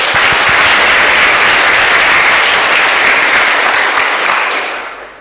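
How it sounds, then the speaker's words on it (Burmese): Sustained audience applause at a Burmese Buddhist monk's sermon, a dense steady wash of many hands clapping at full loudness for about five seconds before fading out at the end. "ကောင်းပါပြီကဲလက်ခုပ်တီးအားပေးပါ"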